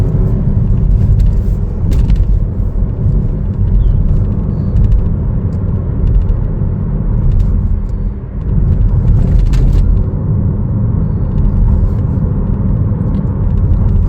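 A 2024 Chevrolet Trailblazer AWD LT drives along, a steady loud low rumble of engine and road noise inside the cabin, smooth with a brief dip partway through.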